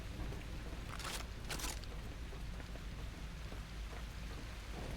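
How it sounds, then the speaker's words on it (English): Soft, steady video game rainfall patters throughout, fairly faint, with a couple of brief louder gusts of spray early on. "It's raining outside."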